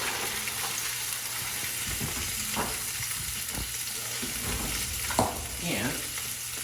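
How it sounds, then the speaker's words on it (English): Salmon fillets fry in a hot pan with a steady, close sizzle, broken by a few soft scrapes and clinks of a spatula. No one speaks. "we're gonna get the salmon going. That's the sound that you want to hear."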